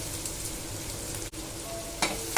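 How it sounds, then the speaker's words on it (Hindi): Green chillies and onions frying in mustard oil, a steady close sizzle that runs on without a break, with a sharper stir or scrape near the end and no talking. "इसमें हरी मिर्च और प्याज को फ्राई कर लेते हैं।"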